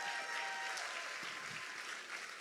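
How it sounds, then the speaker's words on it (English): A crowd at a business event gives a round of applause for the local chamber of commerce, a quiet, steady, distant patter of clapping that holds evenly and fades slightly at the end. "So how about a round of applause for the chamber?"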